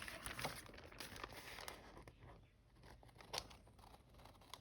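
Long-bladed scissors snip and trim paper for an altered-book paper bag flip, giving soft crinkling cuts with a couple of sharper snips, close and quiet, with no voice.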